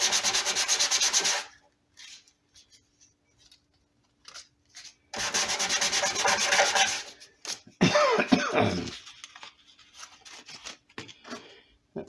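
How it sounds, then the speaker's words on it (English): Light-gauge sandpaper rubbing across a redwood guitar body during finishing, in two long steady bursts of rasping strokes separated by pauses with faint handling noises and a brief cough-like sound. "And I'll sand it towards the repair to push it down in there."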